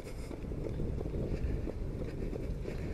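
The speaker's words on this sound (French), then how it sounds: "il y a encore du vent ici" Outdoor wind buffets the microphone throughout, a constant low rumbling roar with gusty swells and no clear speech.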